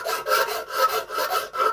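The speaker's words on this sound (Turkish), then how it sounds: "Kesilen yerleri tesviye yapıyoruz ki el takılmasın, rahatsız etmesin" A hand file smooths the freshly sawn edges of silver jewellery at a silversmith's bench, with rhythmic, close, gritty rasping strokes repeating about every half second.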